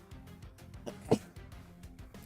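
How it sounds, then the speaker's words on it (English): A single sudden sneeze bursts out near the mic, sharp and brief, amid quiet game-session background with no talk over it. "Oh, I'm gonna sneeze."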